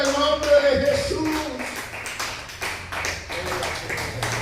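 A church congregation claps together in a steady, fairly close burst of applause, with voices and faint music underneath.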